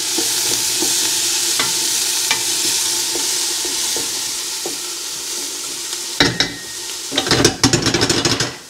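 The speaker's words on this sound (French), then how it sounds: "J'ai réglé à feu vif pour commencer et je répartis correctement les oignons sur le fond de la cocotte." Onions sweat over high heat in a cooking pot, a steady sizzle and crackle with soft stirring scrapes, ending in a few louder clattering pot-and-utensil knocks.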